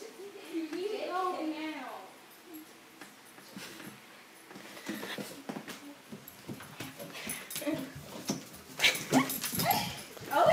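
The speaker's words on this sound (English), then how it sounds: "Doggy, go away." A dog whimpers in a series of high, wavering whines near the start, then a person talks over softer rustling and scattered noises.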